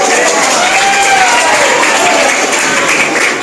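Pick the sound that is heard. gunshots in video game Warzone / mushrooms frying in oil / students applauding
students applauding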